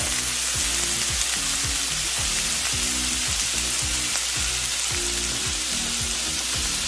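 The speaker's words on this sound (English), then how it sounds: "So we're gonna let it fry, then we're gonna stir." Chicken stir fry sizzles loudly and steadily in a hot pan, a dense frying crackle that fills the whole stretch with no talking.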